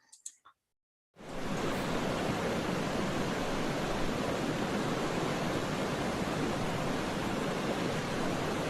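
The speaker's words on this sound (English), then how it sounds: "The water rushing on the rocks and such." River water rushes over rocks in a steady, full broadband roar that starts abruptly and holds constant, close and loud, with no voices over it.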